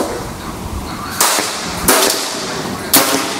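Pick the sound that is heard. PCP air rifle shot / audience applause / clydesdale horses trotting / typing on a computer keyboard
PCP air rifle shot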